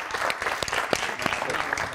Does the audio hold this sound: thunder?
no